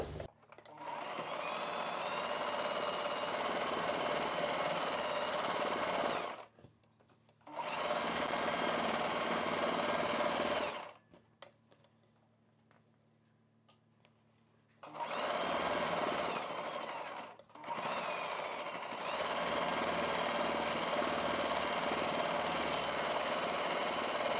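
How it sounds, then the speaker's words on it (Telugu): An electric sewing machine stitches a maxi dress panel in long continuous runs of fast whirring, stopping briefly twice and pausing for a few seconds in the middle, close and fairly loud. "ఎక్స్ట్రా జాయిన్ చేసిన ఈ పీస్కి పై వైపున ఒక కుట్టు వేసేసుకోవాలి"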